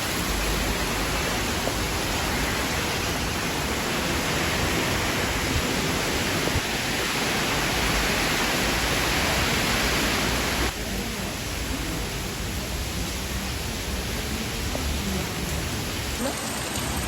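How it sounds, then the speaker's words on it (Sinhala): Heavy storm rain pours down around a church in a dense, unbroken roar that stays loud throughout, shifting slightly in tone partway as the downpour continues. "වහිනා එළියට යන්න බැරුයි"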